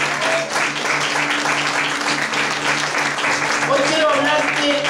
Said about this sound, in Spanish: ¿Cuánto le dan un aplauso grande al Señor y le alaban en el nombre de Jesús?